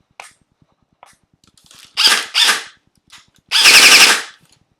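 An airsoft rifle fires bursts of sharp, snappy shots indoors, a pair of quick cracks followed by a longer rapid string, punctuated by faint clicks, close and loud with no voices.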